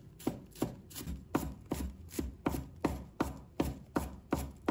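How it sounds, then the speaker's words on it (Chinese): A knife chops a bunch of scallion greens into small pieces on a cutting board for a soup, about a dozen evenly spaced, crisp thuds coming steadily and close by. "再准备一把葱叶，把它切成葱花"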